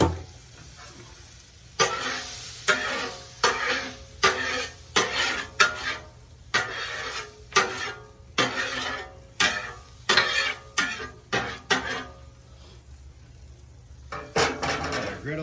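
A steak cooks on a flat griddle while a metal spatula scrapes and taps the surface in a run of sharp, irregular clatters over a low, steady sizzle.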